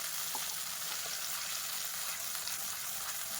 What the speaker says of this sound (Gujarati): બસ તેલ ગરમ થઈ ગયું છે, ઉમેરી દઈશું આપણી દહીંવાળી પેસ્ટ.